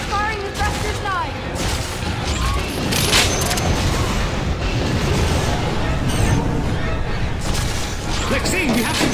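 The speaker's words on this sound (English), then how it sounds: "Test firing the thrusters now!" Spaceship thrusters test fire in the Dead Space: Extraction video game, a dense, loud roar of booming bursts and rumbling blasts that continues through the whole stretch while voices shout over it.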